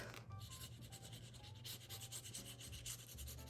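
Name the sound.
burnishing a paper album page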